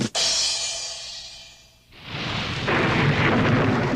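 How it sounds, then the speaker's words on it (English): A severe thunderstorm rages during a missile launch from Cape Kennedy: a sharp, loud thunder crack opens into a deep rumble that fades, then a heavy, sustained roar builds and holds close and loud. "a 500 million ton missile being launched from Cape Kennedy during a severe thunderstorm, and then exploding"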